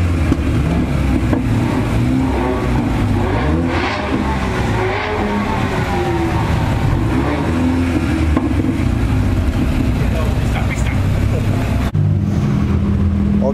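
BMW M2 engine revving at a supercar tour in Haspengouw, loud rising and falling revs mixed with other passing cars, with people talking over it throughout.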